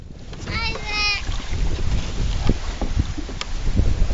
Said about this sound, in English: Oh, the wind's blowing us out. Some strong winds.